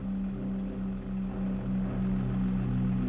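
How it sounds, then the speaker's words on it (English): Propeller airplane droning overhead in Farming Simulator 25, a steady low engine hum with a constant tone that holds at even loudness throughout, no voices present. "that plane sound is in the game"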